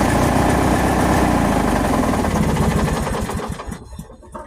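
A Play 212 engine runs on an empty gas tank, its steady close rumbling idle sputtering unevenly before it shuts off and winds down near the end.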